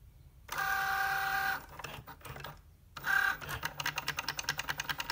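A Cricut Joy cutting machine cuts paper on its mat, a steady motor whir broken by pauses, then rapid rhythmic clicking as the blade moves, loud and close with no talk.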